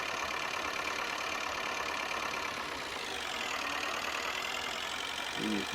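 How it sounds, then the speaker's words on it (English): A farm tractor from around 1962 runs steadily at a constant idle, its engine noise continuous and fairly loud with no change in pace, heard alone without any talking. "And we shall put this tractor back in the shed."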